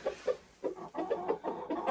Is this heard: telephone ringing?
no